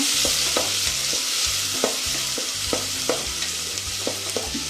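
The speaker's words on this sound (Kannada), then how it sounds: "ಈರುಳ್ಳಿ ಸ್ವಲ್ಪ ಫ್ರೈ ಆಗಬೇಕು, ಕಂದು ಬಣ್ಣ ಬರಬೇಕು." Onions sizzle steadily in a pan for tomato bath while a spoon scrapes and stirs them in a loose rhythm. The cooking is close and loud, and no one speaks.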